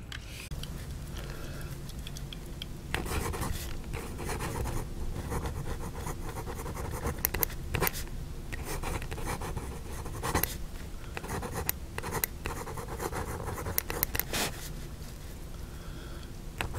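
A vintage Canadian Waterman's fountain pen nib scratches softly across paper, with quiet strokes and small taps in an irregular rhythm, close and alone.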